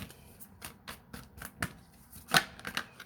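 Tarot cards being shuffled and laid out on a table, a run of soft rhythmic flicks and riffles, then a sharper slap as cards are set down, close with no talking.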